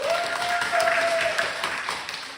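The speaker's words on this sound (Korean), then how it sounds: "하나님의 말씀을 늘 사랑하는 우리 친구들에게 박수 한번 쳐주세요." Children in a church Sunday-school gathering clap briefly, a soft rippling patter with a faint whistle-like tone early on, fading toward the end.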